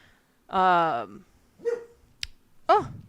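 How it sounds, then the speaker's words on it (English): Dogs barking indoors in a home: a loud, drawn-out bark followed by a few shorter, quieter yips and barks, with a brief click in between. "We have dogs."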